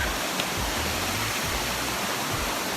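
Chat Warin waterfall in Narathiwat, Thailand, roars as a steady broadband rush of falling water, close and continuous for the whole stretch, with no talk over it.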